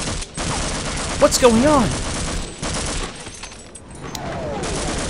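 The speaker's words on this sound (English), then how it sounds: "Wait, why are you shooting at me?" Gunfire from soldiers in the video game Half-Life, bursts of shots cracking over game ambience while a voice speaks briefly in the middle.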